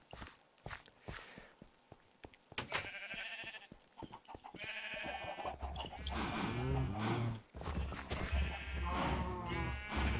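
Minecraft sheep bleat repeatedly, several wavering calls close and loud, mixed with footstep-like clip-clop sounds in the video game.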